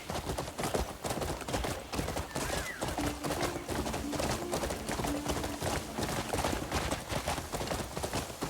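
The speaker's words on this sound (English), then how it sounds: "All right, there's our horse." Horse hooves pound in a fast, continuous galloping rhythm in the fantasy game Crimson Desert, loud and close, with faint birdsong and ambient tones behind.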